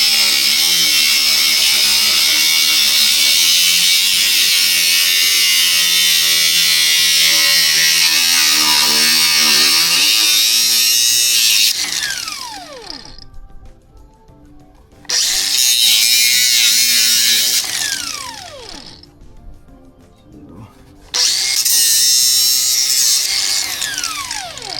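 A power tool cuts a metal flap on a Lexus GX470, a loud high-pitched grinding whine that runs steadily, then stops and restarts in several bursts, with metallic ringing in the pauses.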